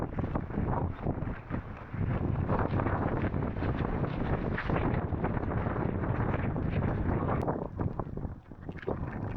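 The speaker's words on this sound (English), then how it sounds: "We need to get out of here, out of this open place. It's too windy and wet." Strong wind with rain in an exposed spot on a Lake District nature reserve, a constant loud roar with heavy gusts buffeting the microphone throughout, no voices.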